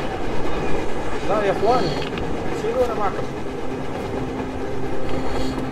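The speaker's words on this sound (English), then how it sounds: "Damn train on the surface." A train rumbles past on the surface in the video game Metro Exodus, a continuous clattering, rolling drone that holds steady for several seconds beneath someone talking.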